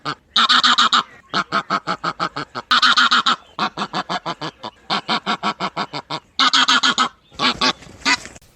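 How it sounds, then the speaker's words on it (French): White geese honk in rapid, close, rhythmic bursts, with short series of nasal calls separated by brief pauses and a few longer, louder blasts. "5 oies blanches"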